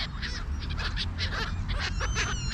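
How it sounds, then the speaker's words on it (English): A black-headed gull gives a series of harsh, squawking calls close by, repeated several times in quick succession over a low background rumble. "Look at that beautiful black-headed gull."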